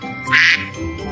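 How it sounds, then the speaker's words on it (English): A duck quacks once, a single loud, bright call standing out over a low steady background hum in a brief children's animal-sounds lesson. "This is duck sound."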